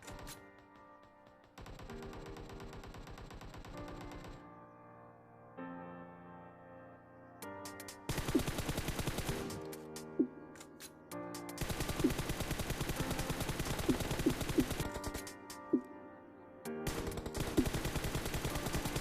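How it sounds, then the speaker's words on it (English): Bursts of M416 rifle fire in the mobile game PUBG Mobile, several rapid automatic strings of shots separated by short pauses, loud and close with no talking. "this is the recoil of M416"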